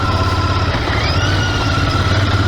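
A smooth-running motorcycle engine idling steadily up close, a constant low throbbing rumble with no speech over it.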